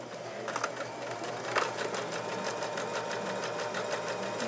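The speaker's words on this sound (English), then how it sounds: "On my machine, I use a blanket stitch." Sewing machine running a blanket stitch along fabric for a homemade Christmas stocking: a steady, close mechanical whir with rapid needle ticking throughout.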